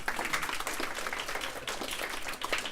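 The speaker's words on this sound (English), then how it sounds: "let's give her a round of applause" A crowd at an elementary school Battle of the Books event claps steadily in a warm, sustained round of applause, moderately loud and even throughout.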